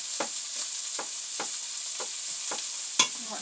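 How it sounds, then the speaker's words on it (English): Chopped onions sizzling with browned sausage in a pan as a utensil breaks it up, a continuous hiss punctuated by regular scraping strokes about twice a second, with one sharper clack near the end. "I'm going to go ahead and add in my onions. Finish breaking that up."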